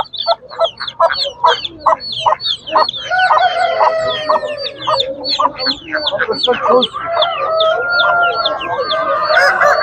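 Mixed village chickens and a rooster at a Tuzla poultry market, clucking in a busy overlapping chorus of repeated calls, close and loud, with a rooster's crow rising toward the end.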